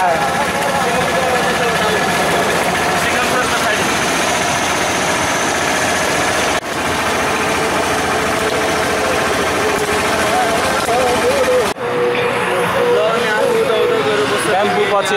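Tempo three-wheeler engine runs steadily throughout a ride in Nepal, a continuous loud drone with road rumble and rattle, briefly dipping twice, with voices heard over the motor.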